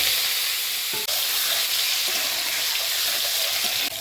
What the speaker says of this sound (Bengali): কড়াইয়ে তেল দিয়েছি এখন ভালোভাবে ভেজে নেব